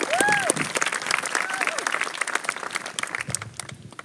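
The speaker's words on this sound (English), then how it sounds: "Another round of applause." A commencement crowd applauds the choir, a round of dense clapping that gradually thins out, with a few faint whistles or cheers near the start.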